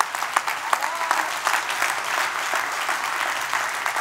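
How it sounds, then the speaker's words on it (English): A church congregation breaks into sustained applause, many hands clapping in a dense, lively patter with a few sharper individual claps standing out, filling the room without any speech. "there's a lot of claps."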